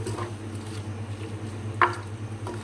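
Onions fry in a pan for mutton paye, a steady close sizzle running throughout with one brief sharp clatter of the utensil partway through.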